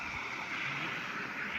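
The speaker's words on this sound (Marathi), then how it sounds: "कसा आवाज येतो पाण्याचा" Canal water flows past in a steady, even rush with a soft low churn beneath it, continuous and unbroken over a brief moment.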